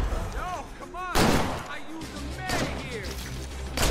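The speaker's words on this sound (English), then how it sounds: "I'm going to pop a grenade." Grenade blasts in State of Decay amid a zombie horde, with several loud, sudden booming bursts over in-game sounds while someone talks through parts of it.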